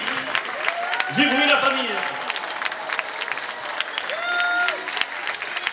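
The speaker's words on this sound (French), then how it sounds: "On applaudit très fort" Audience applause at a fashion show, a steady wash of clapping running through the whole stretch while a presenter talks over it and music tones come and go in the background.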